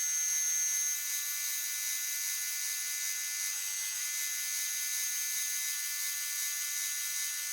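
A Bridgeport milling machine cuts a tripod part with a steady high-pitched whine and a faint metallic hiss, continuous and fairly quiet with no voices.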